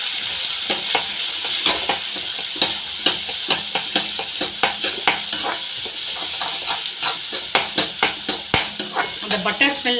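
Onions fry in butter and oil in a pan for pasta, a close, steady sizzle punctuated by regular scraping knocks of a spoon stirring, quickening toward the end.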